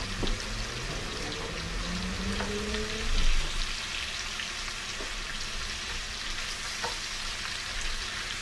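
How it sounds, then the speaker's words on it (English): Carrot bacon strips sizzle and crackle steadily in hot oil in a pan, a constant close frying hiss with a few brief scrapes and a slight swell around the middle. "the oil is nice and hot, and we're going to add the carrot bacon"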